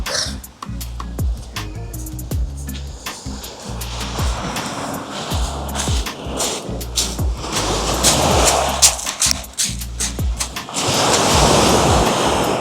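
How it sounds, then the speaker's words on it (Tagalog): Sea waves on the shore, with surf rushing and breaking in a continuous loud wash, buffeted by strong wind noise on the microphone. "lumalakas naman na yung alon."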